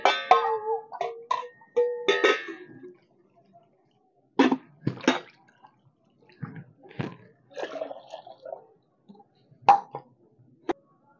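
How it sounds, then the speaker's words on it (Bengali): A mango that has soaked in turmeric water is rinsed thoroughly by hand, with intermittent splashes, trickles and clunks of water coming in short, separate bursts close up. "হলুদ জলে যে আমটা ভিজিয়ে রেখেছিলাম, এই আমটা আমি খুব ভালো করে ধুয়ে নেব"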